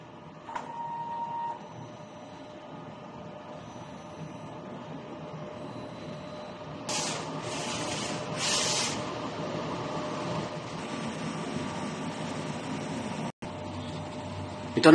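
A DTF printer runs a nozzle test after a head clean, giving a steady mechanical hum with a few short, louder bursts of carriage and print-head movement partway through, recorded up close indoors.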